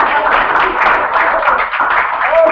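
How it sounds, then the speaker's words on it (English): Audience applause for Lori at a club meeting, a steady dense wash of many hands clapping at close range, holding even throughout with no talk over it. "I think all of us here should give her a round of applause."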